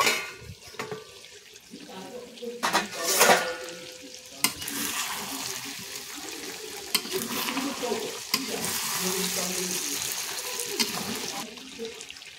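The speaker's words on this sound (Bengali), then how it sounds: "এবারে এখানে সব আলুগুলো দিয়ে দেব, দিয়ে এটাকে নাড়াচাড়া করে নেব।" Potatoes stirred into a homemade country-chicken curry frying in a pan, with steady sizzling and scraping spoon strokes, a few louder clatters and a bright watery hiss throughout, close and fairly loud.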